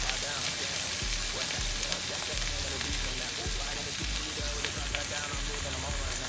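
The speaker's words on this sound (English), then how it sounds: "Now after we finish cooking off all our meat" Steak searing in a very hot pan gives a dense, steady sizzle and crackle that stays loud and even throughout, with faint low thumps of handling underneath.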